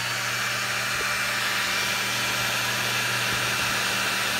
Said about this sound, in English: I'm gonna move my blow dryer so you can hear